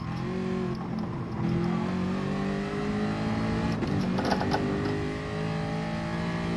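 Race car engine in Gran Turismo Sport with steady harmonic drone shifting pitch, plus brief creaks and clunks of braking and gear changes, loud and continuous without talk.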